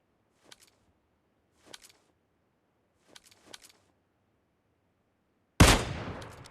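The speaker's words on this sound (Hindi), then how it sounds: "एक गोली मारी, ये बच गया" Kar98 bolt-action rifle fire in PUBG Mobile Lite: a few sharp, thin cracks spaced apart in near silence, followed by one much louder, close blast with a decaying tail.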